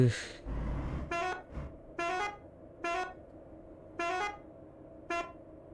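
A truck horn in Euro Truck Simulator 2 sounds five separate honks at a steady pace, some short and some held, loud over a low engine rumble.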